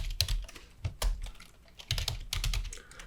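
Keys on a computer keyboard are pressed for Shift+Enter amid a short burst of crisp typing clicks in irregular clusters, close by with no talking.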